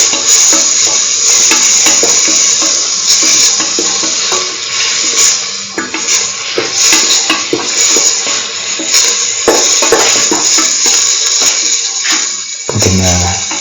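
Spices with cumin powder being sautéed in a pan, giving a steady, bright sizzle over scraping stir strokes, close and loud throughout, with no talking.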